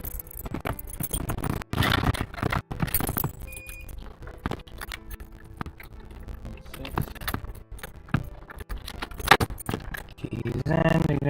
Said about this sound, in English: Keys in, ignition is on, battery is disconnected.